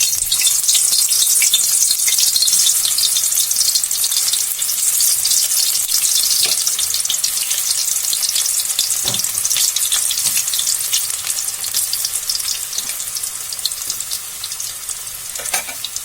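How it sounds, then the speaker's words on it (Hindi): Dhaba-style curry pakoras deep frying in hot oil: a loud, continuous crackling hiss that holds steady throughout, with occasional faint clinks and no voices. "अब इसको हम फ्राई करेंगे।"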